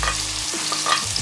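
Garlic dropped into hot oil in a pot, a brief close sizzle with a couple of light stirring scrapes.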